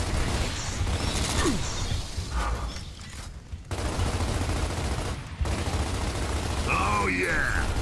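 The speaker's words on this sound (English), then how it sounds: "Shoot the tanks!" Heavy, continuous gunfire in Gears of War, aimed at tanks, loud and close. It pauses briefly twice before carrying on, and voices shout over it.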